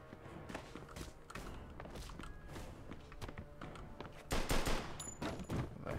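Gunfire from the video game Mafia II: Definitive Edition, a dense run of shots and bursts through a busy mix of footsteps and thumps, growing louder near the end.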